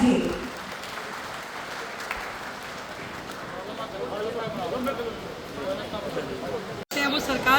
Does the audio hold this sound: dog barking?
no